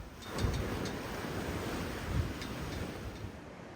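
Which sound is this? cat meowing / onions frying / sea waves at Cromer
sea waves at Cromer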